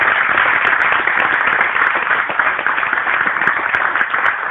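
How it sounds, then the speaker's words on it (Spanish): Audience applause at a folk music peña, steady and fairly loud clapping from a crowd that continues without a break, with no voices on top. "Un aplauso para él"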